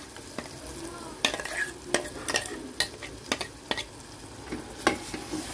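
Cowpea paste frying in a pan gives a soft continuous sizzle, with irregular scraping clicks as a spatula stirs it, heard close up with no talk.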